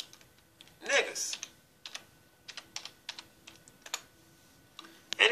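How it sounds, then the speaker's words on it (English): Keys clack on a computer keyboard in short, irregular bursts of taps, fairly close and quiet, with a louder cluster near the start and another at the end. "we're going to type in the word"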